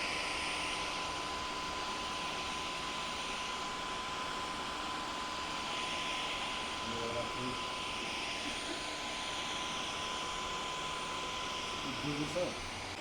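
A Dyson Gen5detect cordless stick vacuum runs with a steady, even high-pitched whine and airy rush, close and constant throughout, with faint brief knocks near the end and no talk.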